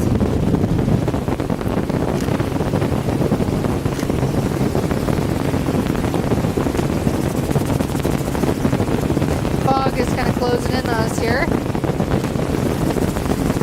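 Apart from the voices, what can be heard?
wind blowing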